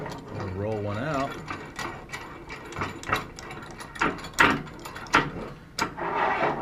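Metal welding angle corner clamp being wound out, a series of clicking, ratcheting mechanical bursts with a brief squeaky turning sound near the start, close and moderately loud.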